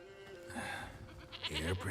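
Goat bleating in The Witcher 3 video game, a short wavering bleat over a steady low game ambience, with speech-like tones around it.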